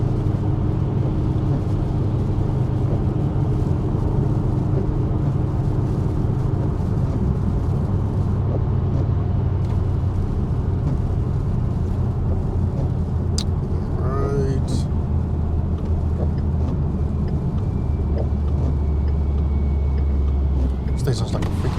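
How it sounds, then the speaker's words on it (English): A boosted Ford Mustang GT engine drones loudly and steadily while driving, a deep continuous rumble with a faint rising whine late on. "This thing sounds like a freaking jet finna take off."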